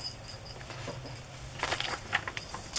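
A small jingle bell in a Christmas journal jingles with light metallic tinkling in a few short clusters, close and fairly soft over a low background hum.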